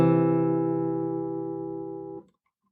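A consonant chord sustains as a smooth harmonic tone, played once and fading gradually over about two seconds before cutting off, clear and alone.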